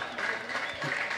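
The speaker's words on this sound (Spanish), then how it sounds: "¡Fuerte el aplauso" Dense, steady applause from a crowd at a cantadera for the San Pedro patron saint festival in Los Pozos, Herrera, Panama, filling the whole moment, loud and unbroken, with a voice faintly audible beneath it.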